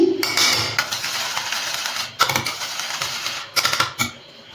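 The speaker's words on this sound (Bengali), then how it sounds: "যে টক দইটা আমি ফেটিয়ে রেখেছিলাম, জল ঝরানো টক দই, সেটা আমি আর একটুখানি ফেটিয়ে নিচ্ছি।" Strained sour yogurt is whisked briskly in a bowl, dense clinking and scraping strokes running almost without a break and dropping out in a few short pauses, close and fairly loud with no voices.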